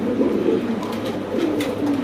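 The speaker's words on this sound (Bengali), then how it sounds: "অরিজিনাল এক জোড়া জিএনএস স্প্যানিশ বর্ডার ডিম বাচ্চা শতভাগ গ্যারান্টি" A pair of GNS Spanish Border pigeons coo steadily in low, throaty bursts, close and fairly loud, with no one speaking.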